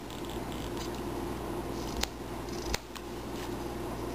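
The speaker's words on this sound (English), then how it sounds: "we'll cut the outline of the basket out completely and around" Scissors snipping around a paper basket outline for a Mrs Claus cone craft, with two sharp clicks standing out over a steady hiss of room noise.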